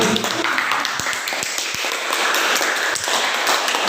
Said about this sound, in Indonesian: Tepuk tangan untuk materi ini.